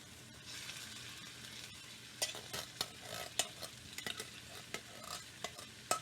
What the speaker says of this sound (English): now we're going to add our crushed tomatoes